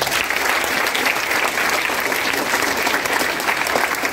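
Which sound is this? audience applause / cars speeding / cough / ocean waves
audience applause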